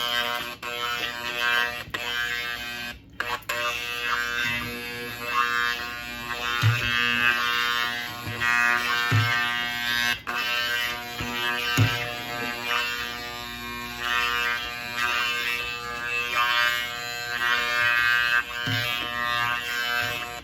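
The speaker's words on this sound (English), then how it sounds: "And then you need a hand blender." A hand blender whirs steadily while blending broccoli soup with heavy cream, a continuous close electric motor buzz with small thumps and shifts in pitch throughout, no talking.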